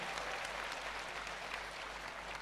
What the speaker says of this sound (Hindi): एक बार जोरदार तालियां हमारी संस्था इसरो के लिए बजाइए।